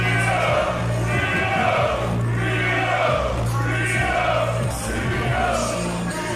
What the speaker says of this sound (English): Crowd doing the cheering there.